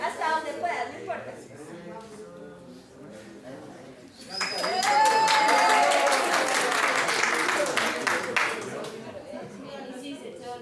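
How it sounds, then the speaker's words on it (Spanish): A church congregation breaks into a burst of applause lasting several seconds, after a stretch of talking, then fades back toward voices. "un aplauso para David."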